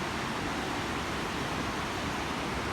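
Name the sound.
river water flowing forcefully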